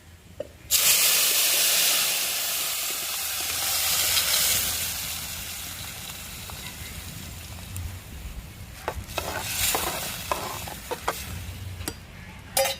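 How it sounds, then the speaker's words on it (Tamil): Tamarind brinjal curry with dried fish bubbling and simmering in a pot, a steady close hiss and seething boil with a few light clinks and bumps, no voices. "புளி ஊற்றி கத்திரிக்காய் நல்லாவே கொதிச்சு வந்துருச்சுங்க"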